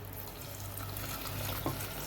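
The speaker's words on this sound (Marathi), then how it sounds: "त्यामध्ये आता गरम पाणी ओतणार आहे." Hot water poured into a pot of washed rice and dal for khichdi, a steady, soft liquid pour with light bubbling, close and alone.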